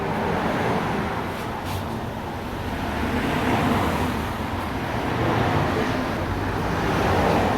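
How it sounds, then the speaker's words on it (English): Steady roadway noise from cars passing along Cheyne Walk in Northampton, a continuous broadband rush that swells and eases as vehicles go by, fairly close and loud, with no talking. "I hope you have been able to hear me over the cars"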